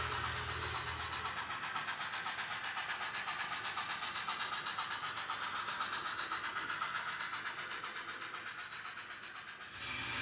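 An HO scale model train of empty gravel cars rolls along its track on a Sierra Railway 1923 layout, a steady close whirring hiss with faint rhythmic clicking that runs continuously and alone.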